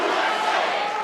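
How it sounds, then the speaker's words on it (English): A partisan crowd at a Republican political event chanting "USA" in unison, a dense, loud wash of many voices sustained through the whole moment. "the partisan crowd chants USA"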